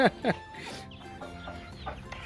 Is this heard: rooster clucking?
yes